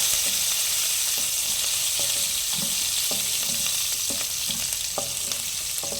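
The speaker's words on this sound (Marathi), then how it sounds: "मिरचीनंतर मी त्याच्यामध्ये कढीपत्ता टाकत आहे कढीपत्ता देखील मी थोडी पानं जास्त घातलेली आहेत हे आपण असं चांगलं मिक्स करून घेऊया" Curry leaves and chillies sizzle steadily in hot oil while a spoon stirs the pan, a constant bright hiss overlaid with soft, irregular scraping taps, close and alone.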